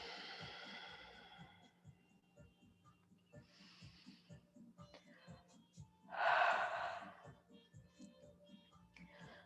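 Big deep breaths taken during a restorative yin yoga session, slow rhythmic inhales and exhales with one louder, fuller breath partway through, close and soft against a faint low hum.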